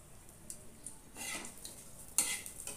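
Chopped onions going into a pan for a Bengali sushni greens fry, a quiet sizzle rising as they land, with soft stirring scrapes and a brief clink of utensil against metal near the end.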